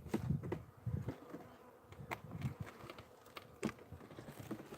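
Honey bees buzz faintly nearby in short, intermittent bursts, with soft clicks and rustles between them.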